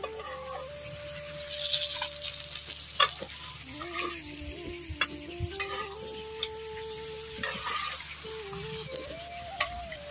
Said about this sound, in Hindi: सिर्फ चिप्स जी फ्राई कर रही है